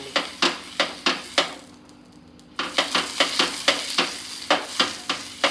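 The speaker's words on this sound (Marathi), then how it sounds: "आता तेलामध्ये हा केळीचा दांडा बुडवून ते तेल असं कावीळला लावायचं आणि घासून घ्यायची कावीळ चांगली." A banana stem dipped in oil scrapes back and forth across a hot iron griddle for rice-flour ghavna, making rhythmic sizzling rubs with a brief pause partway through.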